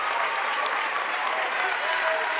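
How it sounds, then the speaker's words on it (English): Crowd applauding at a girls high school basketball quarterfinal, a steady dense clapping from the stands that runs without a break. "with applause from the crowd."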